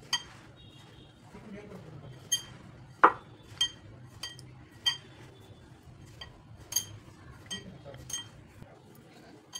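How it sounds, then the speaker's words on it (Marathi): Sabudana vada mixture with peanut powder, chilli and salt being mixed in a kitchen bowl, heard as sparse, faint clinks and taps of a utensil against the dish at irregular intervals over a quiet background. "चवीपुरतं मीठ घालायचे आणि थोडंसं शेंगदाण्याचा कूट मिक्स करून घ्यायचं आहे"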